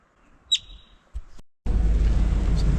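A yellow-bellied marmot gives one sharp, high chirp in quiet Colorado surroundings, followed a second later by a loud, steady roar of wind or engine noise.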